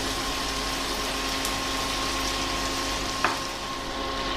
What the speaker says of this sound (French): c'est mettre mes gésiers de poulet confits. Je vais les faire réchauffer sur feu assez doux.